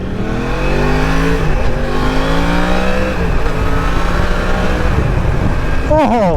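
A 2020 Yamaha MT-10 engine with a slip-on exhaust revs hard and repeatedly nearby, its loud exhaust climbing and dropping in pitch with sharp blips, no talking.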